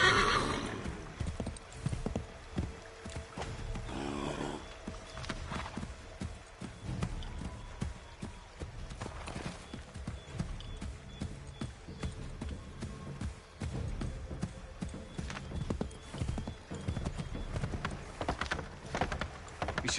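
A horse gallops and neighs in the Assassin's Creed 3 video game, rapid clip-clop hoofbeats running steadily for the whole stretch, with whinnies early on, no talk.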